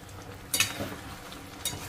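Chicken frying in a pan is stirred, giving a few short scraping bursts over a low, steady sizzle, close and fairly quiet.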